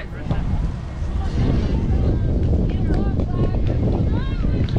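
Strong wind buffets the microphone at an outdoor U14 soccer match, a loud continuous roar with gusty swells, while voices and shouts from the field come through underneath.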